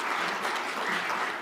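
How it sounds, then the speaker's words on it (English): Audience applause at a talk on BIM management, a steady, dense wash of clapping filling the short moment without pause. "let's give them all a big round of applause for my team and your team, please"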